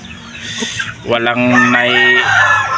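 A large Shamo rooster crows loudly and close by, a long strained call following a few soft clucks, with a voice faintly in the background.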